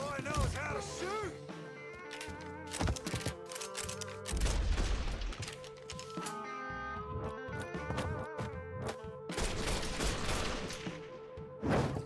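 Rapid gunfire bursts and crashes in the video game Mafia 3, busy and close, mixed with shouted character voices and a music score running throughout.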